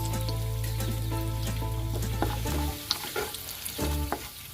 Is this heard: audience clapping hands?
no